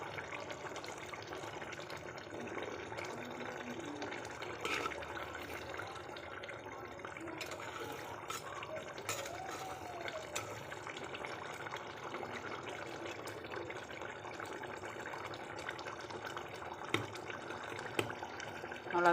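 Catla fish head curry, made without coconut, simmers in a pot on the stove, giving a steady, soft bubbling and hissing wash that runs evenly throughout with a few small pops.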